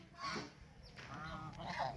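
Several ducks honk and quack in short, overlapping calls from a backyard flock, close and fairly loud over a steady low background murmur.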